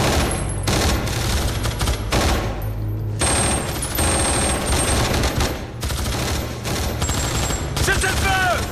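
Rapid automatic gunfire rips through a film shootout, sustained bursts filling the whole stretch with loud, dense, overlapping shots and brief pauses between volleys.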